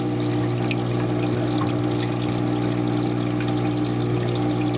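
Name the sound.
aquarium protein skimmer sucking up water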